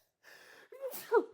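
A single person's sneeze, close and fairly quiet: a short breathy intake followed by a sharp nasal burst, heard in a casual indoor conversation with no speech during the sneeze itself.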